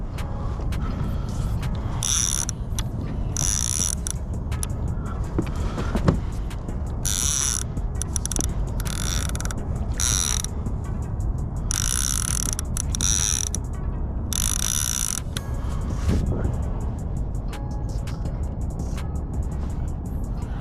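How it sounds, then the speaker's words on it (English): A fishing reel's drag is tightened while trolling for halibut in the Bay Area, giving rapid ratchet clicks in repeated bursts over steady boat and engine rumble, close and continuous, with no talk. "Just gonna tighten up the drag a wee bit here."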